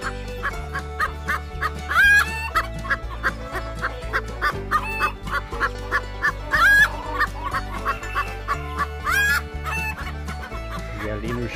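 Chickens near their nest cluck continuously in rapid, repeated bursts with occasional louder squawks, close by and clear, with no talking.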